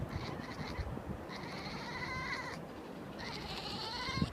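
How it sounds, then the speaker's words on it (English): A domestic cat chirps and chatters in short, bleating trills, two longer runs of rapid chirps close by over a quiet background hiss. "This sound, known as chirping, is a feline behavior that remains quite mysterious."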